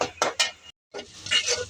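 Ginger paste and green chilies being fried in a pan, heard as a few close metallic scrapes and clinks of a spoon against the pan, with a short silent break in the middle and a light sizzle throughout.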